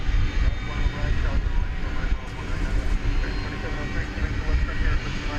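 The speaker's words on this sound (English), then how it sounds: "It's American Flight 154. This is off to London Heathrow." American Airlines Flight 154, a Boeing 777-200ER, departs Dallas/Fort Worth at night for London Heathrow. A broad, rumbling jet engine roar runs steadily under intermittent talk.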